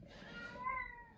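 A house cat gives a single drawn-out, tonal meow that rises and wavers near the end, close to the microphone indoors during a phone unboxing, over a low steady background hum with no talking.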